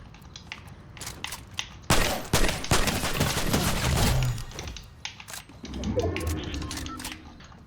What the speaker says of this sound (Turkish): Vallahi bot hayvana sıkıyor.